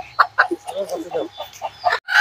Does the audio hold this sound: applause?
no